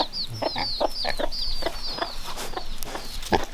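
Young chicks give quick, high, repeated cheeping chirps, close and clear, in a steady rapid series with light background noise.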